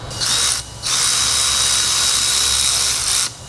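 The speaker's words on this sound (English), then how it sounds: "We're going to use a 5/16 Allen key socket to tighten this countersunk bolt into the arm." A power tool spins a 5/16 Allen key socket to tighten a countersunk bolt into a 350Z rear suspension arm, with two loud, steady whirring bursts separated by a brief pause, close up.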